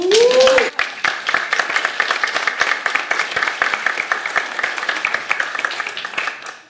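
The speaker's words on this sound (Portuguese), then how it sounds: "Então queria dar um aplauso" Audience applause at a book project presentation and pre-sale launch in Peniche: a brief whistle-like tone, then a steady mass of dense clapping that carries on evenly through the whole stretch.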